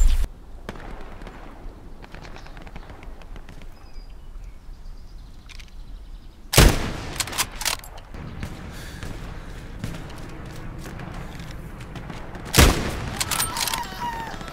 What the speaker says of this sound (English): Just threw a grenade.